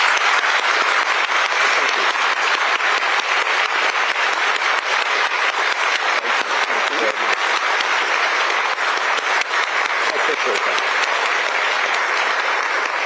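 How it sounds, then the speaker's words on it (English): An audience at a Georgetown University talk by Chief Justice Roberts gives sustained, dense applause, loud and unbroken throughout with no talk over it. "Round of applause for the Chief Justice."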